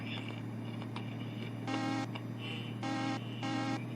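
Truck horn in the Euro Truck Simulator game on a Mercedes-Benz truck, sounding three short electronic blasts in a row over a steady low engine drone, with no talking.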